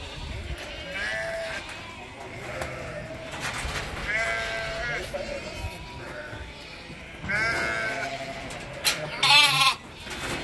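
Goat kids and lambs bleat repeatedly in a pen, several overlapping quavering calls close by at varying loudness, with shuffling and rustling from the herd in between.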